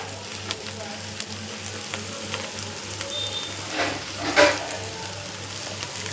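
Cooked rice is stir-fried in a pan, producing a quiet, steady sizzle with occasional stirring scrapes and a louder clatter near the end, close and alone without talk.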